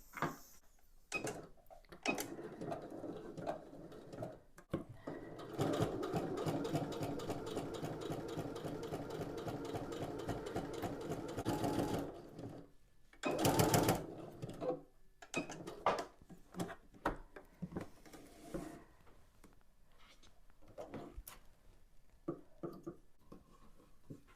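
A sewing machine stitching and back stitching a lay-flat drawstring cosmetics bag runs in bursts, with a long steady whirring run in the middle and shorter stop-start bursts before and after, close and clear with no talking.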